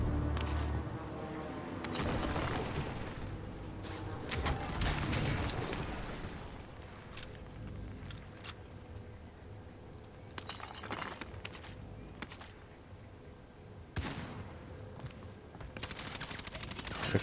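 Gunfire in an online shooter video game, scattered bursts and single shots spread through the stretch, some with glassy clinks, moderately loud under a steady background with occasional faint voices.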